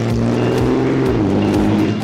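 A 1600-horsepower race truck with 65 pounds of boost accelerates hard at a speed festival, its loud engine note climbing in pitch and then dropping back through gear changes. Close and sustained throughout, with no talking.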